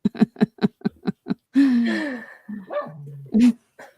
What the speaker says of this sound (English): My dog wants me to pick her up. If you can hear her, she's going.